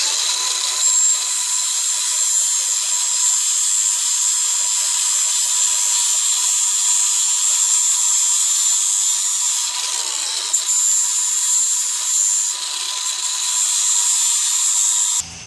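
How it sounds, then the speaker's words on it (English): A grinder fitted with a 120 grit sanding disc works on a part from a 2007 KTM 65 SX dirt bike, giving a steady high-pitched whine with a gritty rasp, close and loud, dipping briefly a few times as pressure shifts. "That was a 120 grit sanding disc on my grinder."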